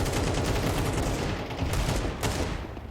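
Dense, continuous gunfire from a Counter-Strike match on Mirage, rapid overlapping shots from several weapons in a sustained loud burst with no talk.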